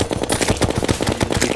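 Rapid, dense automatic fire from a minigun in a video game, a continuous rattling burst of closely packed shots, loud and close.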